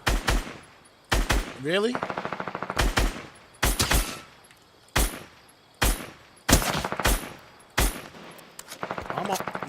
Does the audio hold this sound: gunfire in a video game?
yes